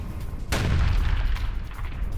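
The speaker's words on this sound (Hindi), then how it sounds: "इस हमले के बाद देखिए कैसे जोरदार धमाका हुआ है, जोरदार विस्फोट हुआ है" A sudden loud blast from a Russian drone strike on a Ukrainian firing post cracks out after a half-second of background noise, then rolls into a long, rumbling decay.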